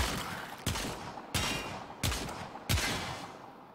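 Four sharp, evenly spaced gunshots from the Lato Vandal pistol in Warframe, fired at a Corpus enemy's head; each crack rings out loud and close with a short decaying tail and no talking.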